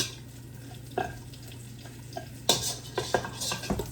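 Sausage renders its fat in a pan on the stove, giving a quiet, steady sizzle broken by a few sharp clinks and scrapes of a utensil against the pan.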